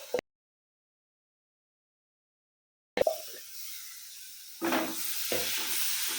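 Finely chopped tomatoes hit a hot pan, and after a brief gap of near silence a steady close hiss of sizzling rises, swelling louder partway through as the frying continues.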